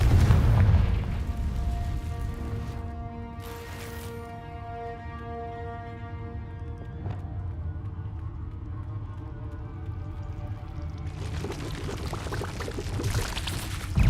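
A Confringo blasting spell in a Harry Potter video game: a heavy booming explosion at the start, then a long ringing, tonal magical decay with a swelling rush of noise near the end, no talking.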